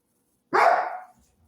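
One sharp, close bark from a poodle-type dog, short and loud, stands alone in an otherwise quiet indoor space.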